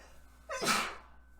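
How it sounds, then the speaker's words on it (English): A single sharp sneeze with a quick inhale leading into a burst of breathy noise, close to the listener, then quiet. "I'm gonna sneeze."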